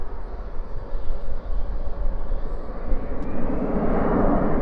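Airplanes rolling along a runway at DFW airport at night, a continuous low, rumbling engine roar heard from a distance that swells slightly toward the end, with no talking.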